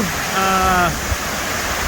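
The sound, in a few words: water rushing over dam overflow at Big Brook Dam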